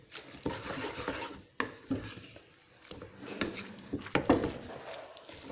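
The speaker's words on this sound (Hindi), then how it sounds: "मिक्स होने में थोड़ा सा मुश्किल होगा क्योंकि हमारे पास्ता बहुत लंबे लंबे हैं।" A spoon stirring long pasta in a pot, scraping and clinking irregularly against the metal, close up, with soft sizzling underneath.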